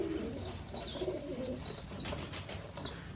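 Pigeons coo softly in a nest area where a mother pigeon sits with month-old chicks, steady low cooing under constant background hiss with faint bird chirps.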